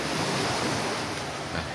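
Waves wash steadily onto a beach where children are swimming, a constant loud roar of surf mixed with wind buffeting the microphone, with no talk.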